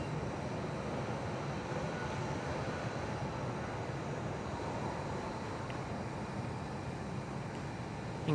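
An Airbus A320 rolls for takeoff at Perth Airport, heard as a steady, broad jet roar with no breaks, distant and even throughout.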